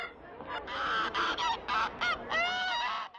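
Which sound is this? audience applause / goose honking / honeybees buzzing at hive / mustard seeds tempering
goose honking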